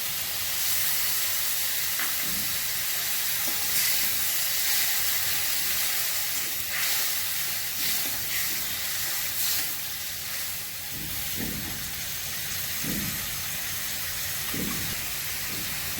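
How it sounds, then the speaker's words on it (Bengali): Curry gravy for yogurt-based pointed gourd (dahi potol) simmers and bubbles in a pan, giving a steady hissing sizzle with soft popping bursts that continues without talk. "ঝোল ফুটছে,"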